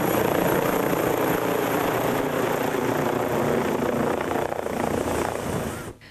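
An emergency medical rescue helicopter of the SUEM 118 service in Veneto flies close by, a loud steady rotor thump and turbine roar that holds for several seconds, then cuts off abruptly near the end.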